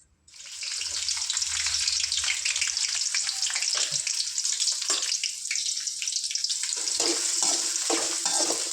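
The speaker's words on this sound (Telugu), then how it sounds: "ఇవి లైట్ గోల్డెన్ బ్రౌన్ కలర్ వచ్చే వరకు ఫ్రై చేసుకోవాలి ఫ్రెండ్స్" Onions and green chillies hit hot oil with a loud burst of sizzling that settles into a steady, dense crackle, close up, with a few stirring scrapes near the end and no talking.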